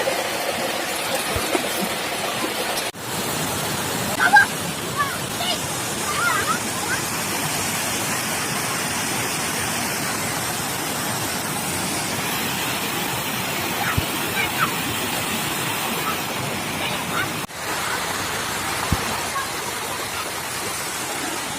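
Rushing water pours steadily over a small mini waterfall at Allugu where people are fishing, a dense continuous roar close by with faint voices underneath.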